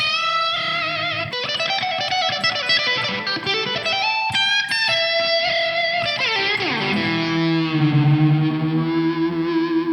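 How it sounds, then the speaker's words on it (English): Sustained electric guitar feedback, loud and distorted, with howling tones that bend and slide in pitch before settling into a droning ring. "normally you'd have to have your amps cranked to 11 to get that kind of feedback"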